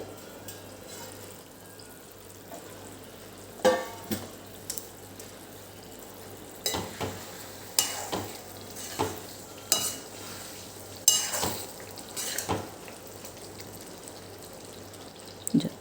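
Eggplant frying for Kathiyawadi gotalo sizzles quietly in a pan while a utensil stirs it in a series of scraping strokes, loud and close, spaced a second or two apart.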